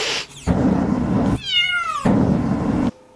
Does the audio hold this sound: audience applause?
no